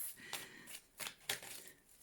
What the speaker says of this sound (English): let's shuffle a few for what's going on throughout the month